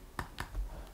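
Keys on a calculator are tapped, a few sharp, quiet clicks spaced irregularly, close by with no talk over them.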